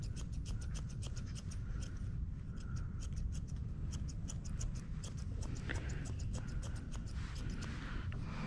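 Scissors snip steadily through hair during an intimate trim, a close run of short, repeated clicking cuts over a constant low background hum, with no talking.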